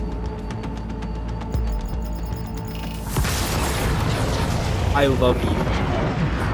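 A rocket launcher blast in Cyberpunk 2077 erupts suddenly as a loud boom into heavy rumbling debris, with a voice speaking briefly over the game sounds.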